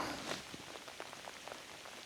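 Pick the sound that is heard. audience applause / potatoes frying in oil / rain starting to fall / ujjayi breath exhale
rain starting to fall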